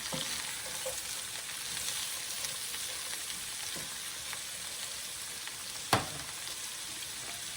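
Vegetables stir-fry in a pan for a breakfast bhaji, a steady close sizzle running throughout with a single sharp clack near the end and no talking.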